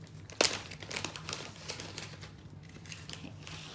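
A plastic Ziploc bag crinkles as items are pulled out of it, with a sharp crackle early on followed by lighter rustling and soft taps, close and without talking.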